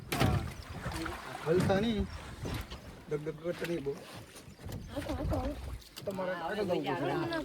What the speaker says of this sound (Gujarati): તો અમારું હોડું નીકળી ગયું છે અને સામે કિનારે જવાનું છે